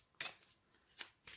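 Tarot cards being shuffled in three quick papery bursts, close and fairly quiet, with short pauses between riffles and no talking.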